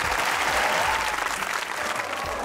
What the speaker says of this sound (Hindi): तालियां हो जाओ।